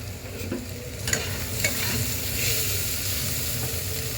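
Chopped vegetables fry in a pan for masala Maggi, a steady low sizzle broken by a few scraping stirs, with no voices.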